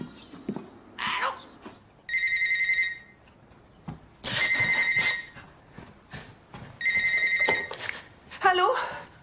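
Old-style telephone bell rings in three loud bursts of trilling rings, separated by short pauses, with voices talking in between and a clatter at the end, indoors in a French romantic comedy.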